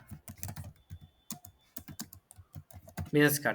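Quick, irregular clicks of fingers typing on a computer keyboard, while a business card is being designed on a computer; the keystrokes come in short bursts with brief pauses, close and fairly quiet, and a louder thump at the end.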